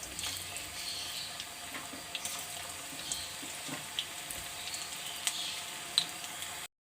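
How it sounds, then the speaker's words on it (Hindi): Mixed vegetable lachha pakoras deep-fry in hot oil with a steady, soft sizzle and scattered crackles and pops that run unbroken for several seconds. "चलिए इस तरह से मैं सारे तल लूँगी।"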